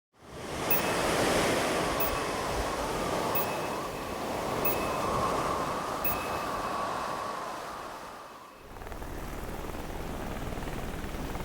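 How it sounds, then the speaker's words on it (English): Heavy ocean surf at the start of a storm during the Red Bull Taifu surf event: a loud, continuous roar of breaking waves and wind with no talking, dipping briefly near the end before surging again. "Oh, mate, this is the start of the storm."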